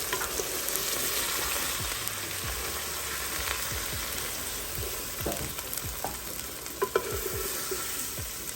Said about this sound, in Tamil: பன்னீர் நிறையா வறுக்க வேண்டாம், கொஞ்சமாக வறுத்தா போதும்.